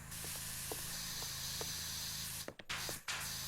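A pressure washer sprays continuously in the video game PowerWash Simulator, a loud steady hiss that cuts off briefly twice near the end before resuming.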